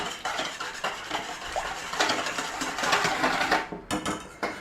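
A whisk beats egg and melted butter with buttermilk in a bowl, making quick, uneven clinks and scrapes against the sides that grow busier before stopping.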